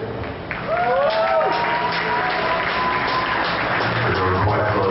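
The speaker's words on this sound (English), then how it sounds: "Give them a round of applause" An audience applauds at a Formula Student Germany driverless trackdrive event, with steady crowd clapping that is loud and continuous. A voice talks over it.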